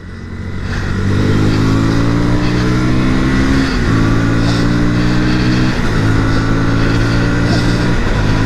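A KTM Duke 160 motorcycle engine runs loud and close while riding, with a steady droning note that climbs in pitch and briefly dips twice at gear shifts before rising again.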